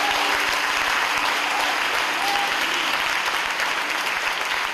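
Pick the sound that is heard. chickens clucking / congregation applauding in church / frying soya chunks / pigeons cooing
congregation applauding in church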